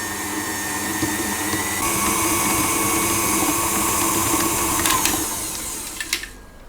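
Electric mixer creams a small amount of butter with sugar in a bowl, a steady buzzing whir that builds slightly, holds, then winds down with a few clattering knocks before stopping.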